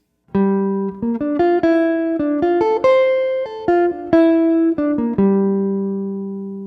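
Quick, sweep-picked guitar notes ripple up and down in a rapid flurry of arpeggios, bright and close, ending on a ringing held note.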